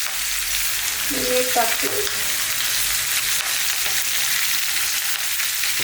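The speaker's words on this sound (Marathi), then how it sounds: "आपलं मशरूम एवढं सर्व छान आपलं पाणी सुटत आता भाजून घ्यायचं" Mushrooms frying in a pan at home for a mushroom paneer corn gravy, a steady close sizzle running throughout with a brief stir or clatter near the start and a short spoken phrase over it.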